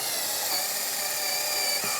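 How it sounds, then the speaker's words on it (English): A drill bit bores and countersinks screw holes in wood for a woodworking trestle, giving a steady high-pitched whirring whine that runs unbroken and close throughout. "Drill a couple of holes, countersink them"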